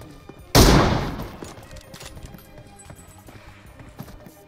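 Gunfire in the mobile battle royale game PUBG Mobile, one sharp loud shot that rings out and decays, followed by faint clattering game sounds.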